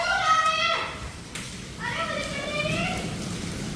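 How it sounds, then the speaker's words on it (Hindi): Hailstones fall during a thunderstorm in the NCR, a steady, dense patter and clatter heard close by under excited voices talking. "ओ भाई ओले पड़ रहे हैं ओले।"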